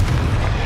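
Confringo spell blast in Hogwarts Legacy: a short, heavy explosive rumble, loud and thick in the low end, held steady for a brief instant.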